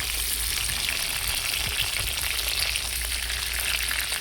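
Pointed gourd (potol) pieces frying in hot oil for a potol chingri dish, a steady dense sizzle throughout with a few soft scrapes of stirring, close and moderately loud, with no talking.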